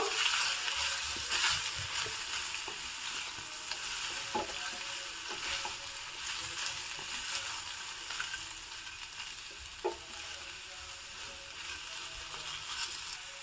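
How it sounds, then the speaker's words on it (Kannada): Finely chopped beetroot goes into a hot pan and is stirred in, giving a steady sizzle with scraping and stirring sounds and a few soft clinks, and no talking. "ಈಗ ನಾನು ಇದಕ್ಕೆ ಸಣ್ಣದಾಗಿ ಹೆಚ್ಚಿಟ್ಕೊಂಡಿರೋ ಬೀಟ್ರೋಟ್ನ ಹಾಕ್ತಾ ಇದ್ದೀನಿ ಒಮ್ಮೆ ಚೆನ್ನಾಗಿ ಮಿಕ್ಸ್ ಮಾಡ್ಕೊಬೇಕು"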